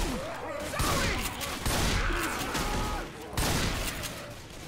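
M16 rifle fire in a video game, heard as repeated dense bursts of gunfire in rapid volleys, loud and close, with a muffled voice faintly underneath.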